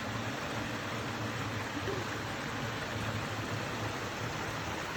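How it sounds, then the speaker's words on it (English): Steady, broadband rush of falling water, continuous and even throughout with no breaks or other sounds. "These beautiful falls. The water sound is gorgeous."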